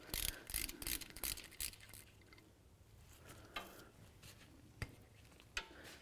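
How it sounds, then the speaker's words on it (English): A hand ratchet removes the banjo bolt from a rear brake caliper on a 2004-10 Dodge RAM, with quick bursts of close, crisp clicking separated by pauses and occasional sharper metallic knocks. "let's go ahead and remove this banjo bolt completely."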